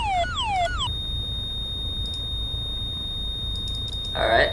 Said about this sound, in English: So now we know that our alarms do work